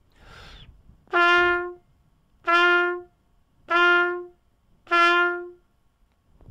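Four separate sustained trumpet notes on the same pitch, each cleanly started and stopped, evenly spaced with short gaps, played close and loud.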